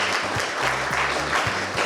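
A school audience claps in a dense, steady burst of applause meant to drive a toy robot's electric motor through a microphone. The clapping is close and loud, with faint low hums beneath it.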